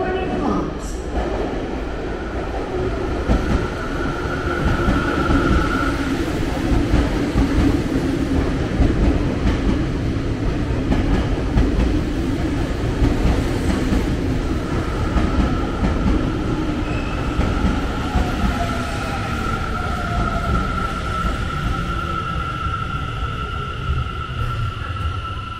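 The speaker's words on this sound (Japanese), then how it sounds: "The local train bound for Shinkiba is arriving at track 3." A Tokyo Metro Yurakucho Line local train pulls into Ikebukuro station, a loud rumbling approach with wheel clatter and a sustained whining tone from the motors, with station announcements heard over it.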